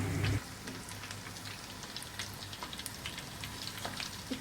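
Chicken leg pieces frying on a low flame, a continuous close crackling sizzle with fine popping spatter that stays even throughout, with no talk.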